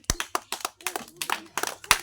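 Hand clapping during a bottle-flip game, a quick run of about a dozen sharp, close claps in an uneven rhythm, with faint voices in the background.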